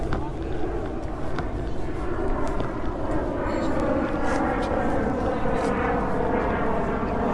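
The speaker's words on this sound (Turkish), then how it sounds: "Yakın olduğu için uçak sesleri geliyor." An airplane roars overhead near an airport with a broad, sustained engine drone that stays loud throughout.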